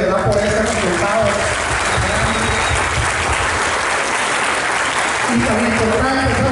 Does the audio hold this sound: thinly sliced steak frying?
no